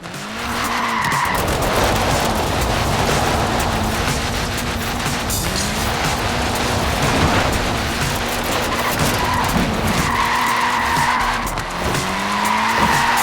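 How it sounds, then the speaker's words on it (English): Small tyres of a Mini car screech and skid in Forza Horizon 4, a loud, sustained squeal over steady engine roar that runs the whole way with a few brief dips and fresh bursts. "Look at that, laying down some rubber there."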